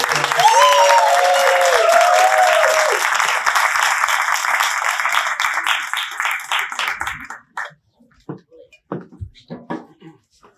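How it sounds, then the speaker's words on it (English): An audience claps warmly for guests at a talk event, a dense wash of applause that holds steady, then thins to scattered claps and fades out, with voices audible. "Give a warm round of applause."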